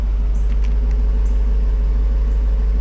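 1976 Mercedes-Benz 450SL with its M117 V8 idling in the engine bay, a steady, low, even rumble with a smooth regular pulse, close and loud, with a few faint ticks above it and no talk.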